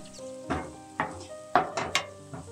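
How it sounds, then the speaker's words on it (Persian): Chopped onions sautéing in a pan, soft sizzling under repeated scrapes and clinks of a spoon stirring against the pan, close and fairly quiet. "یکی دو دقیقه پیازو تف میدیم"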